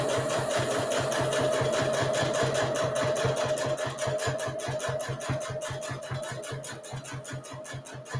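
A sewing machine back-stitches a fabric coffee cup cozy, running in a rapid, even mechanical chatter close by that holds steady for several seconds before gradually easing off.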